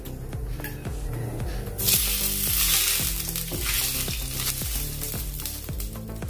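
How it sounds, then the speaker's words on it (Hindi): Oil poured onto a hot tawa griddle bursts into a loud hiss about two seconds in, then settles into a steady sizzle over rhythmic background music, with no voices. "अभी तावे के ऊपर तेल डालेंगे हम।"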